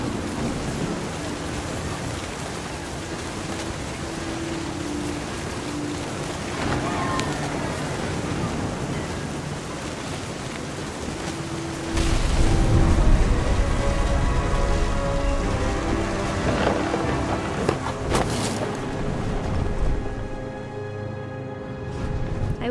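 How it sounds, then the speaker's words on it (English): Thunderstorm rain in the game What Remains of Edith Finch: a steady wash of rain with deep rumbling thunder that swells louder about halfway through, with music and voice-over speech over it. "The thunder sounded much too close and full of angry power."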